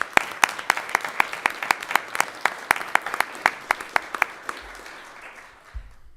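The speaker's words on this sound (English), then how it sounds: "So we just want to give a big round of applause to our winners this year for their hard work and dedication." Sparse, distinct hand claps ring out at a school district board meeting for award winners, a few people clapping in a slightly irregular rhythm that slows and fades toward the end, followed by a brief low thump.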